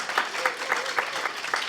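Brief scattered applause from a family audience at a library bombazo music event, a few distinct claps in a loose rhythm over light background murmur.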